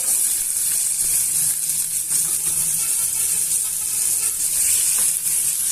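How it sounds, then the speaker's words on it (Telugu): Chopped onions and green chillies fry in hot oil for a bitter gourd masala gravy, with a loud, continuous, close sizzle that holds steady throughout. "ఉల్లిపాయ ముక్కల్ని పచ్చిమిరపకాయ ముక్కల్ని పచ్చివాసన పోయేంత వరకు వేయించుకోండి."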